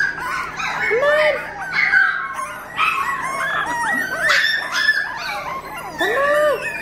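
Small Maltipoo-type puppies howling and whimpering as they play, with rising yips and wavering howls repeating in bursts throughout, close by and fairly loud.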